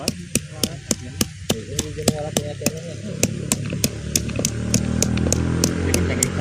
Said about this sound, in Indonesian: Kita tumbuk haluskan.